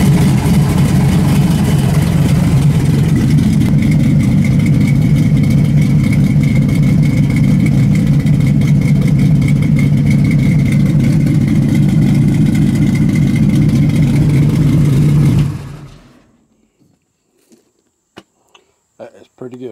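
A race car engine fires up and revs hard, a loud sustained roar with rising and falling throttle for about fifteen seconds, then cuts off abruptly, leaving faint clicks and ticks in near silence.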